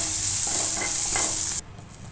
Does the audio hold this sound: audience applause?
no